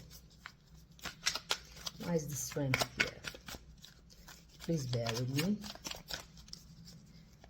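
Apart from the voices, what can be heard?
shuffling tarot cards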